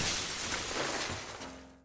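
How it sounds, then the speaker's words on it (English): A man is thrown through a glass door in a film scene, a loud crash of shattering glass followed by fragments tinkling and fading out. "launches him through the glass door"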